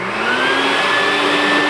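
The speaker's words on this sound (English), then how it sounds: "let me get the vacuum started." A vacuum runs steadily beside a home-made ore crusher used to process rusty sulfide-rich rock from old gold mines, with a loud, continuous whine and a sustained tonal hum that holds throughout with no talk.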